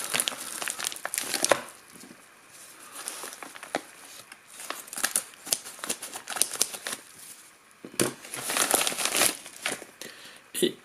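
A padded envelope holding a boxed clone Magic Mouse is unpacked by hand, with bursts of close, loud crinkling and crumpling separated by quieter pauses, and no talking.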